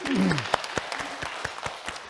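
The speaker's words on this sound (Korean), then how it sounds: "하나님께 영광의 박수 드리겠습니다." A church congregation at a Sunday service gives a short round of applause, with a voice speaking over the start before the clapping thins into scattered, separate claps.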